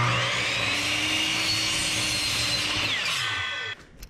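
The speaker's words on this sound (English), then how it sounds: "So let's head on over to the miter saw and chop it off real quick" A miter saw chops through a 2x6 board with a loud, steady whine for nearly four seconds, then cuts off abruptly as the blade spins down.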